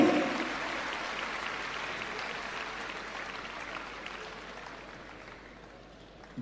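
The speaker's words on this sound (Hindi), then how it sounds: "जोरदार तालियों की मुझे आपसे आशा और उम्मीद है" An audience claps for students of Delhi government schools being honoured at a ceremony, a dense burst of applause that starts strong and slowly fades over several seconds.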